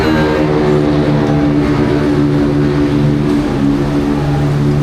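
A motor engine runs steadily at a pier, a continuous low droning hum with layered harmonics that holds at an even, fairly loud level throughout with no voices.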